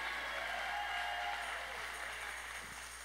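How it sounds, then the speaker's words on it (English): An audience at a talk about growth claps steadily throughout, a dense wash of applause that holds level and then eases slightly toward the end. "You guys are clapping."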